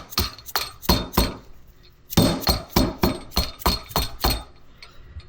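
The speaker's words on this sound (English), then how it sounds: "Dead blow hammer so you ain't marking up anything." A dead blow hammer tapping a fork seal into place on a motorcycle fork, a series of sharp, close knocks in two bursts, roughly a dozen blows at an even rhythm with a brief pause between groups.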